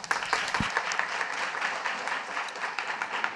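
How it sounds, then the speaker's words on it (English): A conference audience at an organizational leadership event applauds steadily and evenly throughout, with dense overlapping claps at moderate loudness and no one talking over it. "we're going to give them a big round of applause"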